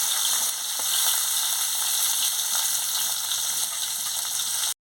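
Pointed gourd pieces fry in hot oil in a pan, a loud, steady crackling sizzle with scattered pops and light scraping, continuing evenly before cutting off abruptly at the end; no voices.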